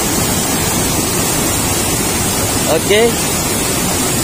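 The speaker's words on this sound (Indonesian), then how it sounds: "Dan ini penampakan dari air terjun di tingkat pertama." Constant loud rushing water from the first tier of a waterfall fills the scene like a broad roar of noise, and a voice briefly speaks over it near the end.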